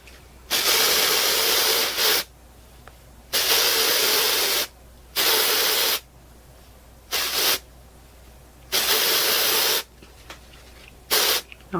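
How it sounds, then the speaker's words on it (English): Hairspray is sprayed onto hair in six separate close, loud hissing bursts of varying length, each one to two seconds long, with short quiet gaps between them and no talking. "Now I want even more volume in here. I'm going to spray a little bit more."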